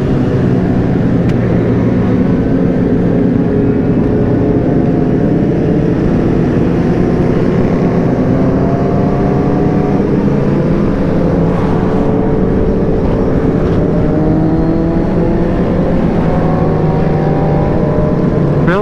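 A group of motorcycles, including Can-Am Spyders and sportbikes, riding together in formation, loud and close with a dense, continuous engine drone and wind roar and shifting tones as the bikes accelerate.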